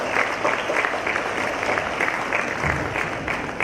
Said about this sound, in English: So let's start with a huge round of applause.